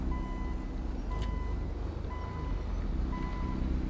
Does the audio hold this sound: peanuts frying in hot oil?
no